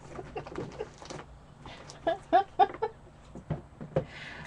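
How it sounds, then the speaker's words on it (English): An adhesive tape gun dispensing tape makes short squeaky, chirping bursts in a quick irregular cluster, clucking and bird-like, close by with quieter background noise between them. "it's my ATG that makes that noise. It's not the chickens"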